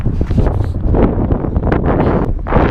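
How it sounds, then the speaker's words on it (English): Loud wind buffeting the microphone in rough, rumbling gusts, with no pause throughout. "Oh, it's so windy."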